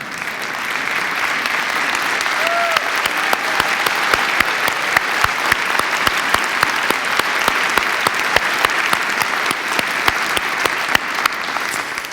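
A church congregation at Unity Temple applauds a 97-year-old woman on her birthday, a dense, steady wash of many hands clapping that holds throughout with scattered sharper individual claps near the front.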